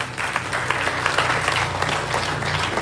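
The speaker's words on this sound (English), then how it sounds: "Please give them a big round of applause." A crowd at a Ramayan Yagna at Jalaram Mandir temple in Orlando applauds steadily, many hands clapping in a dense, sustained wash of sound without pause.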